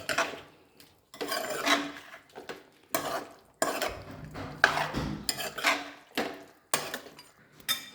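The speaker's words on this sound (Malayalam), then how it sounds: "അതിന് ശേഷം എല്ലാം കൂടെ" Chicken roast with a squeeze of lemon being stirred in a pan, heard as intermittent bursts of scraping and clinking of a spoon against metal with a light sizzle, separated by short quiet gaps, close and alone.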